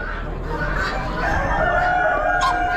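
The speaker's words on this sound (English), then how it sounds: "Hens and roosters." Mixed hens and roosters at an auction cluck and crow together in a busy, continuous clamor nearby, with layered tonal calls over a low background hum.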